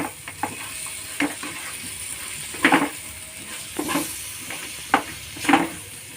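Raw mango methamba being stirred in a pan, a soft steady sizzle broken by occasional scraping clinks of a spoon against the metal.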